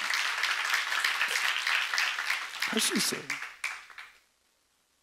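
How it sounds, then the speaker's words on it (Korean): Church congregation clapping at a Korean sermon, a dense broadband patter with someone speaking over it, thinning into scattered claps before fading to near silence after four seconds. "박수 좀 세게 쳐봐"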